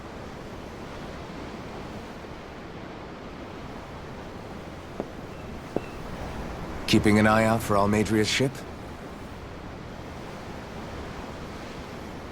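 Steady ocean surf in Tales of Arise, a continuous soft wash of waves running through the whole scene, with a voice speaking briefly over it partway through.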